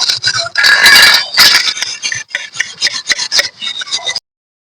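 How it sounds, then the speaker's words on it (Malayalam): Close, harsh scrubbing with steel wool and soap powder, rough rasping strokes in quick bursts that pause briefly between passes. "കമ്പിച്ചകിരി വെച്ചിട്ടാണ് കേട്ടോ വീണ്ടും കുറച്ചും കൂടി സോപ്പും പൊടി എടുത്തിട്ടുണ്ട് അപ്പൊ നന്നായിട്ട് ഉരയ്ക്കുക"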